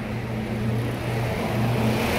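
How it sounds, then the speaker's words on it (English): A noisy truck passing by on the road, its engine a steady low rumble and whir that swells slightly toward the end, with no talk. "Waiting for this noisy truck to go by."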